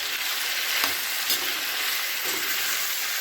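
Spiny gourd curry stirred in a pan after red chili powder, turmeric and coriander-cumin powder go in, giving a steady close sizzle with a few scraping strokes of the spoon and no talking.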